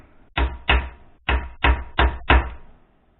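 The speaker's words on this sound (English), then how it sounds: "we take the good old chisel and start breaking those sections out" A steel chisel knocks out sections of wood between a series of saw cuts: six sharp, close blows in an uneven rhythm, loud and woody with short ringing decays, and no talk.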